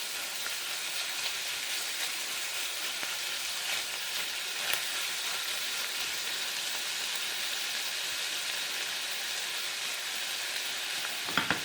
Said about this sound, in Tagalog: Nice sizzling sound there, guys. That's just the garlic and onions.